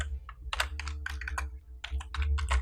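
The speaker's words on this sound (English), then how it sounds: "So now I'm going to type" Typing on a computer keyboard: crisp, close, rapid key clicks in short uneven bursts with brief gaps, over a low steady hum.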